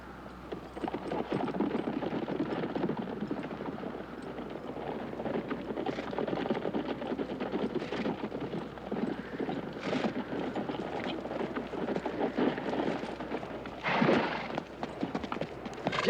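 Hooves of riders on horseback and a horse-drawn wagon clip-clop steadily through an outdoor Western scene, a dense continuous trampling with wind noise and a brief louder swell near the end.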